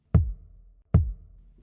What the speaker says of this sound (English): Here's the same thing with the kick drum. This is uncompressed.